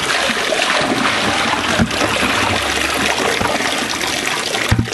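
Stream water tumbling and splashing steadily into a hot spring pool along the Kern River in California, a loud continuous wash of running water with a couple of brief sharper splashes.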